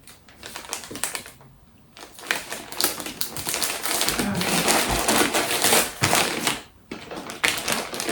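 Packing tape being pulled and handled while closing a shipping package, with a run of rapid crackling tearing and rustling bursts broken by short pauses, close and loud.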